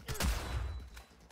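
A gunshot headshot in the Cyberpunk 2077 video game, one sharp loud blast with a short echoing decay, followed by a fainter thud.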